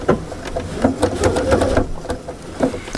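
A Vesta sewing machine stitches a seam about half an inch from the fabric edge, a close rapid mechanical whir and clatter in uneven bursts with brief pauses.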